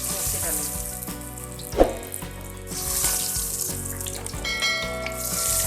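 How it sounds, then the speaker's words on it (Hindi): Kofta balls fry in hot oil with a continuous close sizzling hiss, and a brief clatter partway through as another ball drops into the pan. "ये देखिए हमारा तेल गर्म हो चुका है। हम इसमें एक एक करके कोफ्ते डालेंगे।"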